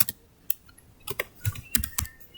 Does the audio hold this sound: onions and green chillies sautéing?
no